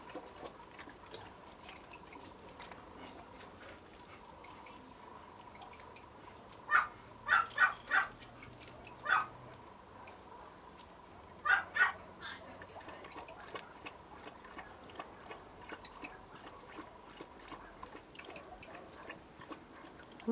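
Blue tits carrying caterpillars to their chicks give quick, sharp ticking calls in small clustered bursts, fairly close, over a quiet garden background.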